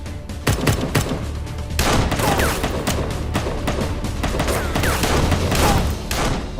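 A loud, dense fusillade of gunfire rings out during a shootout in a Turkish TV drama, with rapid overlapping shots and bursts running continuously with no talk.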